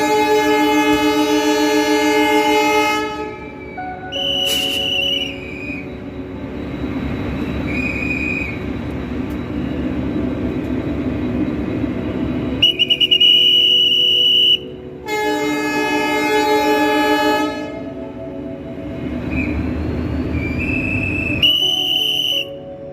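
A Bharat Gaurav tourist train pulls away on its departure, sounding several long, loud horn blasts close by, with a rumbling lull between them and no voices.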